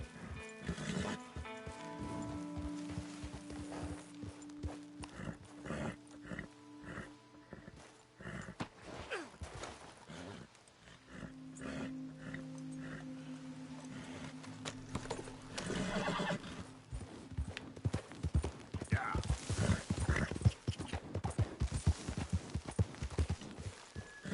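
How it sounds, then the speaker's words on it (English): Horse hooves clip-clopping at a walk with repeated neighs and whinnies in a PS4 video game camp scene, close and clear, with some footsteps and faint ambient sounds between them. "You know you're not supposed to have that horse in camp."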